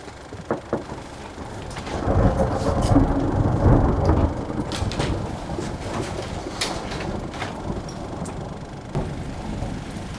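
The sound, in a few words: rain and thunderstorm sound effect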